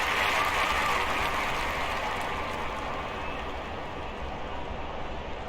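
Steady applause from a large crowd fills a London 2012 Olympics video game stadium, a dense continuous clatter of clapping that stays loud throughout before easing slightly toward the end.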